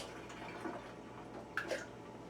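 Tap water trickles and splashes as it is poured into about a pound of ground meat mix, a faint, quiet pour with a couple of brief louder splashes and no talking.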